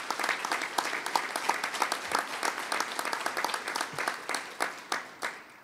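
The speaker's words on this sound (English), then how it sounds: "give yourselves another round of applause for that" Conference audience at a New York community reconstruction event applauds, a dense run of individual claps that thins toward the end, spaced-out hand claps standing out near the close.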